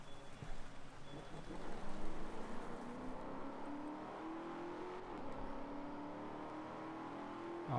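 A racing car engine in the Drive Club video game revs and whines through gear changes, rising and falling in pitch as the car speeds around corners, heard steadily and fairly close throughout.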